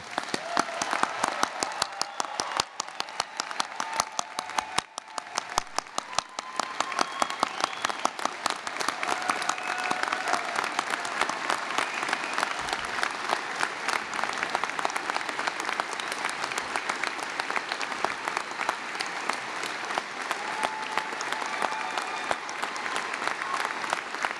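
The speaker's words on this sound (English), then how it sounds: "Let's give one more round of applause to the class of 2019." Sustained applause from a large crowd at a college graduation ceremony, dense and steady clapping that continues for the whole stretch with a faint murmur of voices.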